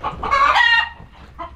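Farm chickens clucking close by, a dense burst of excited squawking calls followed by a few quieter clucks, no voices.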